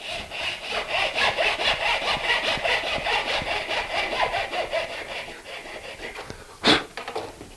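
A hand saw, set in a dovetail cutting guide, cuts a dovetail in wood with brisk, evenly paced back-and-forth strokes close by, slowing near the end before a single sharp knock.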